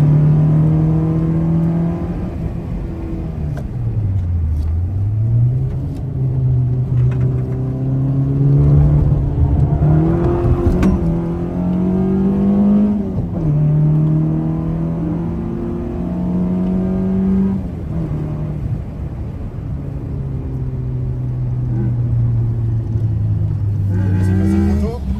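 Citroën AX GT small petrol engine on a race circuit under light throttle, a loud close droning hum whose pitch rises and dips with gear changes, continuous throughout with wind buffeting.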